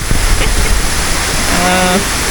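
A waterfall at Clarenda's Farm in San Jorge, Samar, rushes in a loud, steady, close roar of flowing water, and a voice briefly speaks over it.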